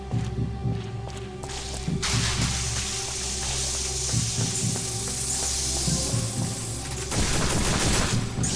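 Gunfire and impacts from a shotgun in the PS2 shooter Extermination, dense bursts of shots layered over a continuous game soundtrack with a steady low musical drone, busy and loud for most of the stretch.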